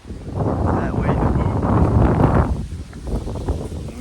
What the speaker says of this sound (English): Super windy, and we ran into some rollers